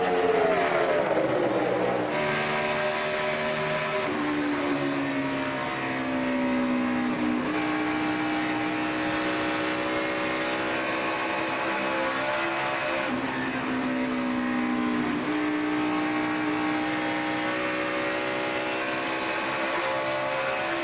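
NASCAR stock cars race at full throttle, Jeff Gordon's car among them, a loud continuous engine roar with rising and falling pitch sweeps as the cars accelerate and pass.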